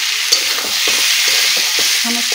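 Potatoes fry in oil in a pan while being stirred, a loud, close, steady sizzle with soft scraping strokes and no speech.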